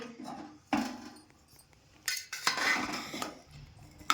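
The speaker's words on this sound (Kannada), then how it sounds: "ಇವಾಗ ಕುಕ್ಕರನ್ನು ತೆಗೆಯೋಣ." A metal pressure cooker opened after cooking jeera rice, with loose clanks and clinks of the lid and pot in a few separate bursts, close and moderately loud, no talking.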